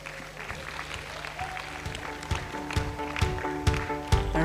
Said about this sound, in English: A big hand clap for Redamark.